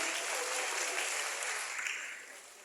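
Audience applause at a youth forum, a dense wash of clapping from a crowd, steady and loud at first, then fading.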